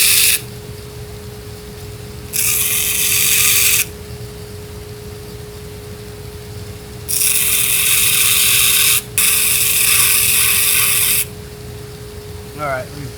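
A bench grinder sands a Damascus knife forged from guitar strings, in three loud bursts of harsh, high-pitched abrasive grinding, each lasting a second or two, separated by quieter stretches of low shop hum.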